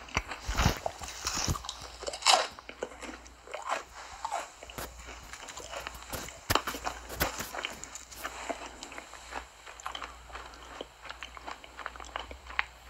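Crunchy food being bitten and chewed up close for ASMR, a steady run of crisp crunches and smacking bites repeating throughout with no talking.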